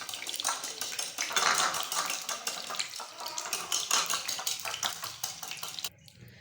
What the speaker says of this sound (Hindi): एक अंडा लीजिए और उसको हम फेंट लेंगे।